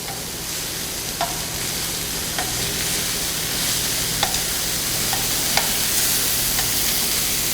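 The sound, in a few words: beef tips searing in a pan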